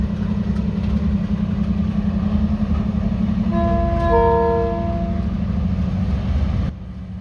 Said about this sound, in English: The conductor is back on board, and the train can now depart Albany.